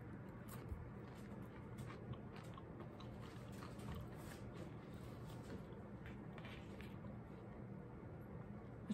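Close, steady crunching as a single OPTAVIA potato fueling, eaten plain with no salt, is bitten and chewed, with soft, repeated mouth sounds running throughout and no talking.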